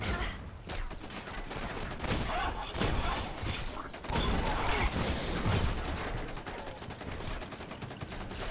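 Sustained gunfire from shooting at enemies in the video game Destiny, a dense run of rapid shots and mechanical clatter lasting throughout, with a faint voice in the mix.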